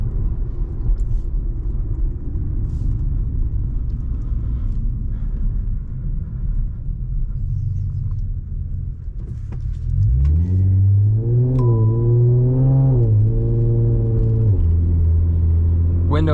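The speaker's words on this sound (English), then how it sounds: "That is all exhaust that you hear." Exhaust of a tuned Infiniti Q60 heard from inside the closed cabin on a night highway drive, a low steady rumble that swells into a loud rising rev as the car accelerates hard, then settles back down.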